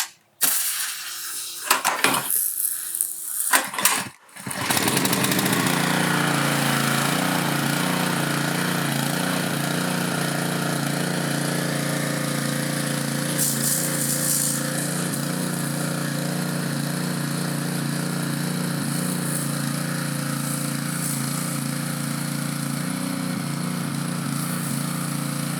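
A gas pressure washer engine on choke catches after several pull attempts, then settles into a loud, steady running drone close by, with no one talking over it.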